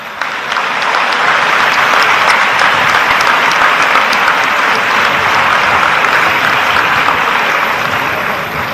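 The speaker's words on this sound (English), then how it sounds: "you are overwhelmingly giving a big clap" Graduates and guests applauding at a Sri Sathya Sai university convocation with the Vice-President of India, a loud sustained roar of clapping from a large crowd that stays even from start to finish.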